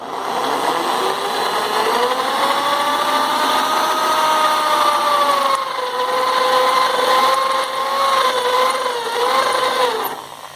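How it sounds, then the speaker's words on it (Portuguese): An electric drill whines loudly and steadily for about ten seconds while drilling out a spot weld, its pitch dipping slightly as it bites into metal, then spinning down at the end. "E agora eu venho com a furadeira e faço assim."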